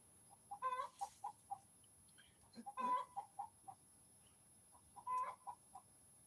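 Laying hens cluck in repeated short bursts, with a few louder, drawn-out cackles standing out at moderate distance in a quiet outdoor setting.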